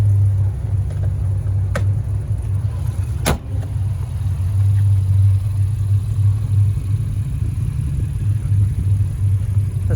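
A 2021 Honda Pilot SE sits idling with a smooth, steady low engine hum, close and constant throughout, broken only by a couple of brief clicks.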